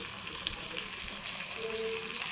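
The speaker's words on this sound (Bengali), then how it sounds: "এই যে এখানে এখন পেঁয়াজ আর রসুনগুলা ভালো করে বাছতেছি। এগুলো একদম ভাজা ভাজা করে ফেলতে হবে" Onion and garlic fry in a pan with a soft, steady sizzle and crackle, quiet and close, with a faint stirring scrape.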